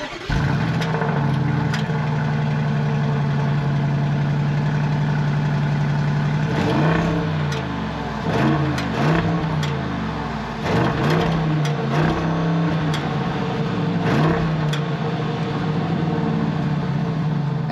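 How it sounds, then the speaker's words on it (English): A 4-liter twin turbo V8 in a 2023 Bentley Bentayga EWB settles into a steady, close idle, then blips through several sharp revs in quick succession before dropping back to idle, with no talk over it. "This is a 4-liter twin turbo V8. So let's go ahead and fire up that engine."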